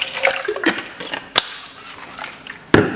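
Water poured into a juice strainer after straining carrot and beetroot juice, rinsing it out in a kitchen: short splashy bursts and trickles with a few sharp clunks, fairly close and moderately loud.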